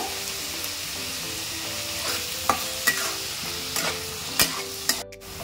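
Tomato puree cooking in a hot frying pan, a constant close sizzle broken by several scraping stirs and spoon taps against the pan, with no voices.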